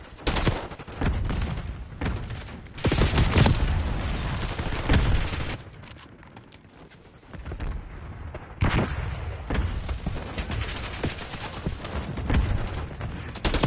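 Gunfire from wallbang shots through walls in the video game Call of Duty: Black Ops 6, loud dense bursts of rapid shots with short pauses between volleys.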